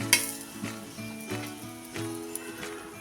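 A peanut-stuffed flatbread roasts with oil on a hot pan, giving a soft steady sizzle with a few light scraping and clinking touches in a loose rhythm.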